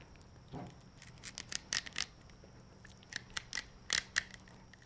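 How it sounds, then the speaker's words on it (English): Knife cutting into a king salmon fillet and popping through pin bones, a series of quiet, sharp crisp clicks and snaps at an irregular pace, close and faint with no talking. "Those are the pin bones you could hear."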